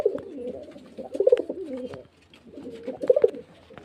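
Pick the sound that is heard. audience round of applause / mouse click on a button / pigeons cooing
pigeons cooing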